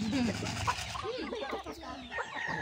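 Chicken clucking mixed with close talk and background household noise, a few short clucks rising above the voices.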